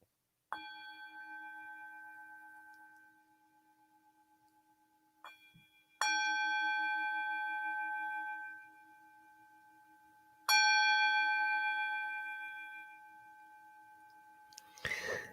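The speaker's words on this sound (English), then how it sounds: "allow the sound of that bell to bring you deeper to that place within you" A meditation bell rings during a church service, three clear resonant strikes each left to decay into a long sustained shimmering tone, with quiet pauses between them and no talking.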